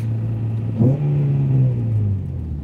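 An SUV engine with a sticking throttle revs up sharply, then holds a strained, rumbling high idle that slowly sags, close and loud with no talk.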